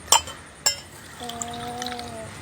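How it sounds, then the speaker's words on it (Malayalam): Two sharp glass clinks ring out close by, followed by a thin, steady pour of liquid into drinking glasses that runs for about a second, faint and alone. "ഗ്ലാസ്സിലൊന്ന് ഒഴിച്ച് കൊടുക്കാം."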